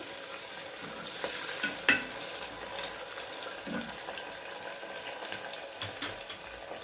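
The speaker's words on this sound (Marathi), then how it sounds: "कांदा छान परतला की त्याच्यामध्ये आपल्याला टमाटर टाकून घ्यायचे टमाटर पण आपलं मस्त परतून द्यायचे" Onion and tomatoes sautéed in a pan for a pea rice dish, a continuous moderate sizzle with scattered spatula scrapes and taps, close by with no talking.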